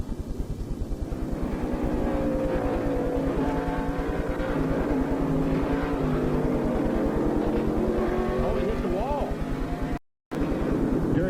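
In-car audio from a 1994 NASCAR Winston Cup race at Bristol: a race car engine roars loud and continuous, its pitch rising and falling with the throttle, and cuts out briefly near the end.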